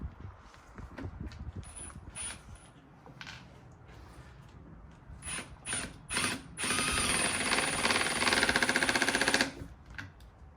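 Small screws being driven into the designated holes of a hinge during DIY furniture assembly, a ratcheting mechanical clicking that comes in short bursts and then runs as a sustained, louder rattling stretch near the end.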